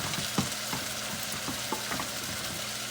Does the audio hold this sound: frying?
yes